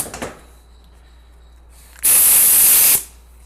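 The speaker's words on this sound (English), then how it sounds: "Applying our overdrive clutch there, and you can hear here we're applying a clutch" Compressed air applied to the overdrive clutch of a 4L80E transmission, one loud steady hiss lasting about a second after a quiet stretch with faint clicks.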